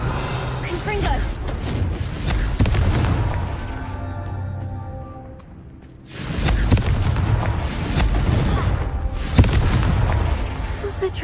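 The Confringo blasting spell detonates in Hogwarts Legacy with heavy booming explosions, one blast that rumbles away into quiet and then more loud bursts, with talk in between.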